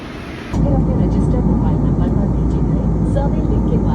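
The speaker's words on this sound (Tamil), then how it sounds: "indigo flight" Cabin noise aboard an IndiGo passenger aircraft in flight, a loud steady engine and airflow roar that starts abruptly and holds constant, with low rumble dominating.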